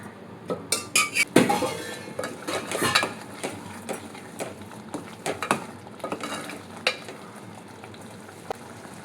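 A spoon scrapes and clinks against a pan in irregular strokes, with a soft sizzle underneath as moong dal lentils and masala are stirred together for keerai kootu.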